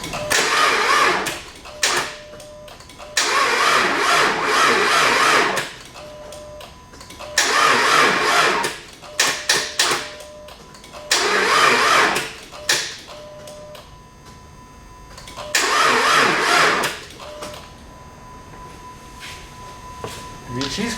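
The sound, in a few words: Dodge Magnum engine cranking, trying to start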